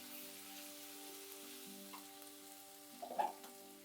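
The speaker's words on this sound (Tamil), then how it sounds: "வெங்காயம் வதங்கிட்டு இருக்கும்" Onions sautéing in a pan as the base for a puli kuzhambu with drumstick, brinjal and potato, a steady close sizzle and fry hiss with a brief stir of clatter near the end, no voices.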